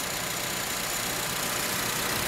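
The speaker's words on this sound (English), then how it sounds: "engine's on right now" An unmodified Honda Civic engine idling with the bonnet open, heard as a smooth, even hum and broadband whir that holds steady and close for the whole short stretch, with no revving.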